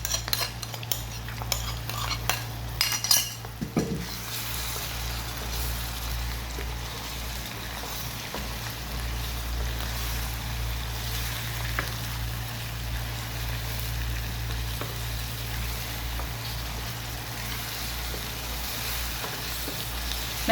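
Chicken cooks in a yogurt masala with turmeric and red chilli, a soft sizzle bubbling in the pan while a spoon scrapes and clinks against the metal in a few sharp bursts, then a low steady simmer.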